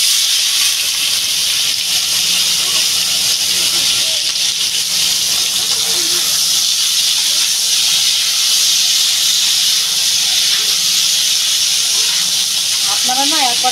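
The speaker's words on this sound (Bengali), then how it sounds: "আমি এবার যে ওলটা আর আলুটা সিদ্ধ করে রেখেছি ওটা ঢেলে দেবো" Boiled elephant foot yam and potato hit a hot pan with a steady, loud hiss of sizzling that runs unbroken throughout, with faint kitchen clatter near the end.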